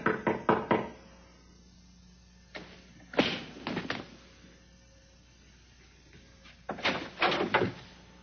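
Knocks rap on a door in three separated bursts, a quick cluster at the start, another around the middle and a final flurry near the end, with quiet room tone between them.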